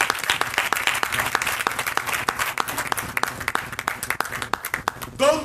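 A church congregation bursts into sustained applause, dense clapping filling the room at steady loudness for several seconds.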